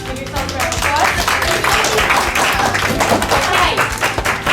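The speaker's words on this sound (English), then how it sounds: "Give yourself a round of applause." Students and families clap for bake-off teams at a middle school cooking contest, a dense, steady patter of hands lasting several seconds with voices mixed in.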